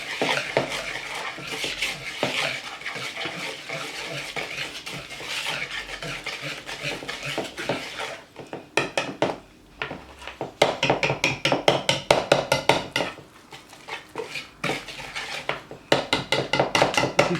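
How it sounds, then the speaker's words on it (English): A utensil stirs and scrapes a thick sauce with Worcestershire in a bowl for a seafood sandwich. First comes a steady scraping, then quicker rhythmic clinks and taps against the bowl, close by with no talking. "I'm going to mix this first."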